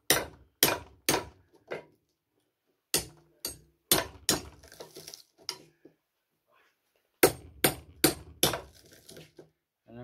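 Hammer blows knocking copper coils loose inside a motor slot, sharp metallic strikes in uneven bursts of two to four with short pauses between, close and fairly loud.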